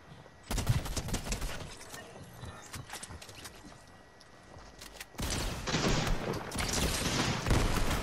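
Shotgun blasts and scuffling action in the Fortnite video game come in two loud stretches of sharp, clustered bangs with a quieter lull between them and no speech.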